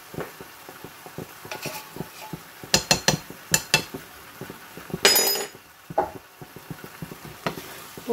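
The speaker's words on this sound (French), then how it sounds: "Donc là, je vais mélanger." A spoon stirs coconut milk into curry meatballs in a pan, giving irregular clinks and scrapes against the metal, a few sharper knocks and a brief louder splashy scrape midway, with soft sizzling underneath.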